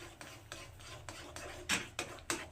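A spoon scrapes and rubs around a pot as semolina is stirred into boiling water, a steady run of soft rhythmic strokes with a few sharper metallic scrapes toward the end, fairly quiet with no talk.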